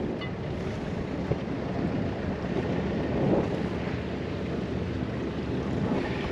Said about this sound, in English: Hopefully it's not too windy. I have got the new furry mic suppressor on